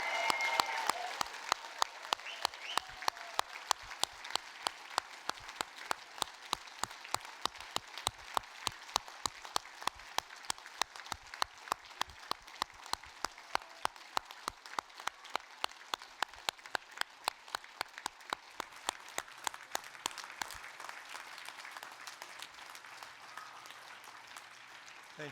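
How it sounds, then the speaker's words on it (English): Graduation ceremony audience at Victoria University applauds the new graduates, a long steady patter of many hands with regular louder claps close by, sustained for about twenty-five seconds before fading. "can you now give them a really rousing, hearty round of applause and say congratulations?"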